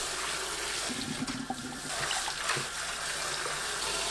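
Water splashing and running while perilla sprouts are washed by hand in a kitchen, a continuous close trickle and slosh with small splashes.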